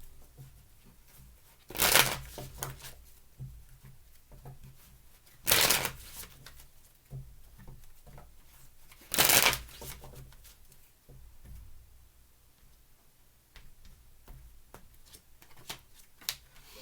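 Tarot cards are shuffled in three short, crisp riffling bursts spaced a few seconds apart, close and clear against a quiet room.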